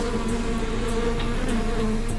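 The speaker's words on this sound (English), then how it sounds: "Millions of killer bees started swarming toward them." Dense, loud buzzing of a swarm of killer bees droning together continuously, close up with a steady hum.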